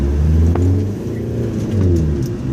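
The Frankendiesel car accelerates hard toward highway speed, its deep engine drone rising and falling in pitch with gear changes, loud and close from inside the vehicle.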